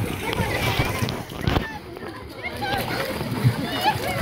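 Water splashes and sloshes in short bursts outdoors while people, including a child, talk over it nearby.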